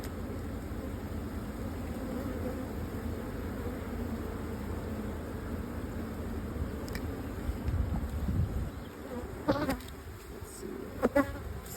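A dense, steady buzz of many honey bees at the hive fills the clip continuously, with a few brief knocks and rustles near the end.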